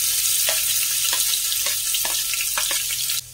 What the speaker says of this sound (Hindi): अब मैं इसमें ऐड कर रही हूँ ऑनियन